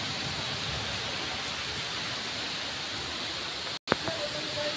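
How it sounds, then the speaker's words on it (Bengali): Steady broadband hiss of rain falling during a dark, windy village storm, constant and enveloping, with a brief dropout and a sharp knock near the end. "এখন বৃষ্টি পড়তেছে"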